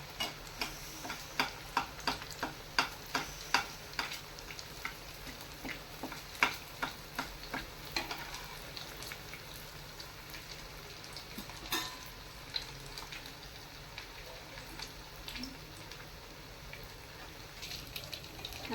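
Semolina and potato snacks frying over a low gas flame, a soft continuous sizzle broken by a run of rhythmic ticking taps that thin out, with no voices.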